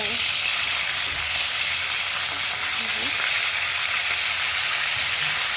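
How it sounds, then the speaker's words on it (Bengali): Pieces of foli fish fry in hot oil in a pan, producing a loud, dense, continuous sizzle with faint scraping as the pieces are turned, and no talking. "একটু ভাজা হয়ে গেছে, এখন আরেকটু হচ্ছে, উল্টে দেওয়া হচ্ছে।"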